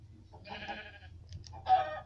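A few short, quiet bleats from a sheep, heard alone with no talking.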